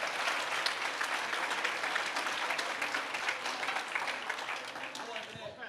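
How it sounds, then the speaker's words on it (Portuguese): An audience at a Brazilian church gathering applauds steadily for several seconds, dense and full, slowly easing toward the end. "Você pode dar uma salva de palmas para a Margarete?"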